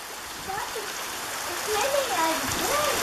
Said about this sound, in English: It's, yeah, it's raining on the bridge!